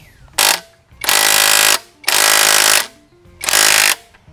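An impact wrench loosens the castle nut on a Kawasaki ZX-4RR motorcycle in four loud, close, hammering bursts, each lasting under a second, separated by short quiet gaps.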